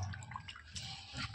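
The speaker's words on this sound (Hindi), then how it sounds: "इसको 2-3 बार पानी से धो लूँगी अच्छे से" Thin-sliced potato chips are washed in a pot of water, with soft sloshing and splashing as the slices are stirred by hand. The sound is close but fairly quiet, with a few brighter splashes.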